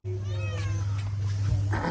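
A cat meowing close by, one long, drawn-out meow with a wavering pitch, followed by a shorter, rising call at the end.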